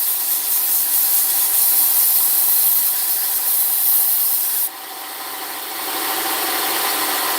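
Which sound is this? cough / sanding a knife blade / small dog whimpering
sanding a knife blade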